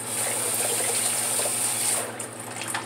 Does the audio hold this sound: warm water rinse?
yes